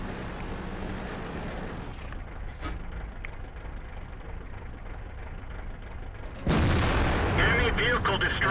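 A T30 tank gun fires in the World of Tanks video game, one sudden loud blast cutting in over a steady engine rumble and battle ambience, then a sustained roar; a voice talks under it.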